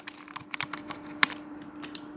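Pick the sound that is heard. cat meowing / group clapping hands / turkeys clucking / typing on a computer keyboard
typing on a computer keyboard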